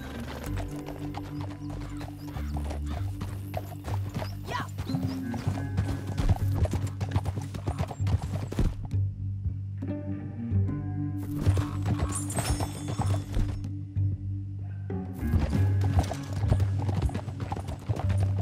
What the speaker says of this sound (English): Back on your horse, let's get after them.